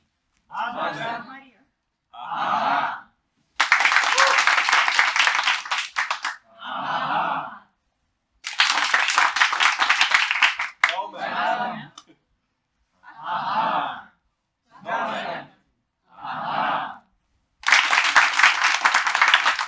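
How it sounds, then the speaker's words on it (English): At a presentation workshop, an audience breaks into three short rounds of loud, dense applause on cue. A speaker talks in the pauses between the bursts. "When I'm raising my left hand, then big applause."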